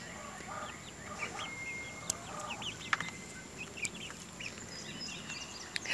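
Young Barred Rock chickens cluck and peep in soft, scattered bursts, several birds calling irregularly at moderate distance over a quiet outdoor background.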